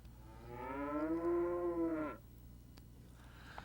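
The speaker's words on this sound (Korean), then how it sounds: "갓 태어난 송아지들은 가차없이 어미로부터 떼내어져 칸막이 방에 가둬집니다" A newborn calf penned alone on a farm gives a single drawn-out moo lasting about two seconds, close and clear, followed by quiet barn ambience.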